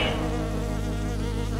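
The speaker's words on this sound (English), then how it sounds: "it is powered by the buzzing bees here." Close, loud, continuous buzzing of bumblebees, a steady droning hum with no other sounds.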